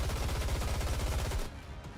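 Rapid automatic gunfire from the video game Goddess of Victory: NIKKE, a dense, loud burst of rattling shots lasting about a second and a half before dropping to a softer rumbling tail.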